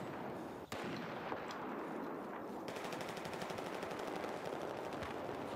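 Sniper rifle fire from an L96 in Battlefield 4, with a sharp crack near the start followed by dense, continuous in-game combat noise and gunfire throughout.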